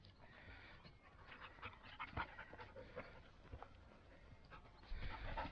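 Dogs panting steadily and close by, after splashing into a patch of muddy water on a Derbyshire hill walk, with rustling and a louder burst of breathing near the end.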